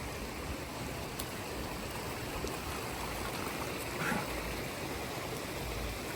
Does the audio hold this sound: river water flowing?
yes